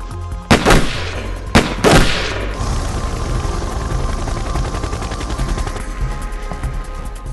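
Two loud gunshot blasts ring out early, followed by a continuous rattling fusillade of automatic gunfire that persists in the background of a film trailer for The Killing Machine.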